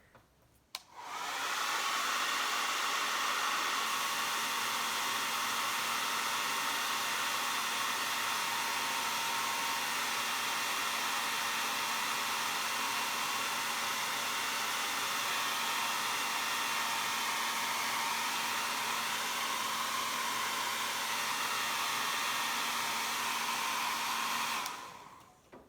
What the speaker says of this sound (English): Let's throw a hairdryer on real quick.